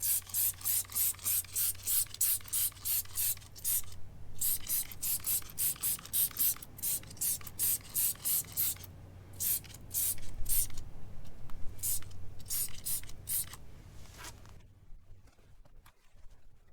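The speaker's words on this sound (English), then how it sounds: "We just spray it on, let it do its thing" Rapid bursts of wheel cleaner spray hiss in a steady rhythm onto a car wheel, pausing briefly, then a longer rushing rinse of water that tapers off near the end.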